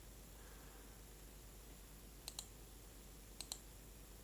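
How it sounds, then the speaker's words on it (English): Two quick pairs of sharp computer mouse clicks, near and faint, over a steady low hiss with no one talking. "if I click over here"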